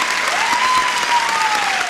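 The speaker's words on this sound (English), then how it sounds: "you will just give a little brisk applause" A studio audience gives brief, brisk applause, a dense burst of clapping lasting under two seconds, steady and fairly loud with a thin whistle-like tone gliding over it.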